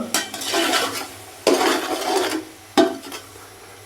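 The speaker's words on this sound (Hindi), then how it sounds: "और यहाँ पे मैं मसाले को तकरीबन 5 से 7 मिनट के लिए अच्छे से भून लूँगा" Spice masala with tomatoes and a little water being stirred and roasted in a pot, with three firm scraping strokes of a spoon against the metal over a steady moist sizzle, close and fairly loud.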